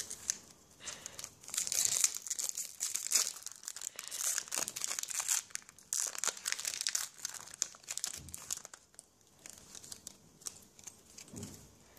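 Pokémon XY2 booster pack being torn open, a continuous close crinkling and crackling of foil wrapper with brief tearing bursts, quiet and without talk.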